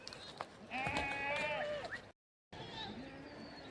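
Sheep bleat in a few wavering calls on a Himalayan mountain trail with a Gaddi shepherd's flock, close and fairly clear, broken by a brief silent gap.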